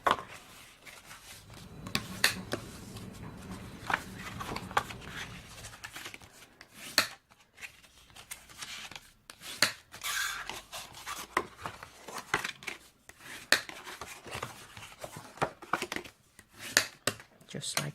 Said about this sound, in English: you just want to come in and you just want to fold and burnish.